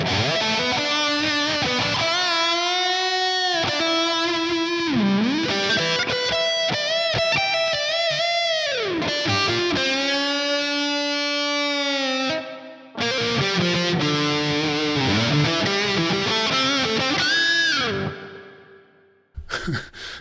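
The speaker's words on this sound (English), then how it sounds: "Reverb." Distorted guitar through the STL Tonality Josh Middleton amp plugin with reverb on, long held notes and slow bends swelling in a washed-out ambient tail, played alone before a quick fade at the end.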